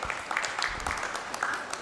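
An audience at a jewellery retail conference applauds, a dense patter of many hands clapping at a steady, moderate level.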